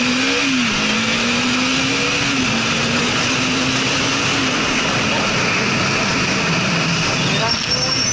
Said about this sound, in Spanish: estoy feliz manejando esta moto